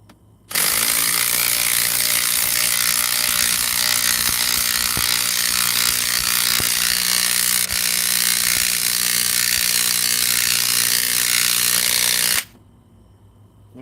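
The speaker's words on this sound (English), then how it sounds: "let's give the Milwaukee a break and go with the DeWalt on these. Looks like to be maybe 4-inch lags." A DeWalt cordless impact driver drives a 4-inch lag screw in one long, loud, continuous burst of rapid hammering lasting about twelve seconds, then cuts off abruptly.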